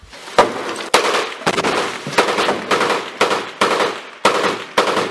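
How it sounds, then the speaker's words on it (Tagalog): Gunfire exchange in Gaza: repeated sharp cracks and bursts of shots at irregular intervals, some rapid and clustered like automatic fire, loud and fairly close with echoing tails. "Kaliwat kanan ng palitan ng mga putok ng baril at pambobomba sa Gaza."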